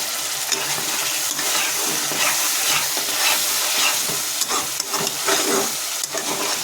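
Cauliflower and spices, including red chili powder, frying in a pan while being stirred: a loud, continuous sizzle with crackles and scraping stirs, close up and with no talking.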